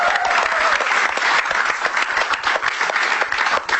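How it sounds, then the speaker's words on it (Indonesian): Loud, close applause from a comedy-show audience greets a stand-up comic called to the stage, a brief burst of many hands clapping that stays dense and even from start to finish. "tepuk tangan untuk Krisna."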